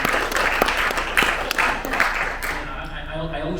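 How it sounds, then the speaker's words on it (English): Audience applause at a local history premiere event in Miamisburg, a burst of clapping with sharp individual claps that fades out over a few seconds, with some voices mixed in. "can we get a round of applause for the Miamisburg Historical Society?"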